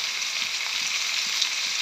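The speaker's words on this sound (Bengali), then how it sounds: "পেঁয়াজ ভাজা হয়ে গেছে, সবজিগুলো সব দিয়ে দিলাম" Vegetables dropped into oil with onions that are already fried, giving a steady, close, even sizzle of frying with a few faint stirring touches underneath.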